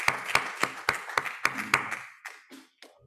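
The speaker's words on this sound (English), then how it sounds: "And a round of applause for the Global Shapers." A few people clap at a health and healthcare closing plenary for the Global Shapers, with sharp individual claps in a loose rhythm that slow and fade into scattered last claps.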